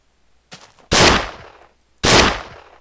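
A semi-automatic Luger pistol in a World War 2 guns video game mod: a faint first report, then two loud, sharp gunshots about a second apart, each with a short decaying tail.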